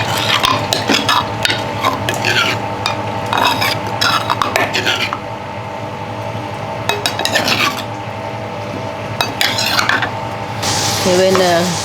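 Minced chicken fries in a hot pan with a little added water, a utensil stirring and scraping against the metal in repeated bursts alongside clinks, under a steady sizzle, with a brief pause in the middle.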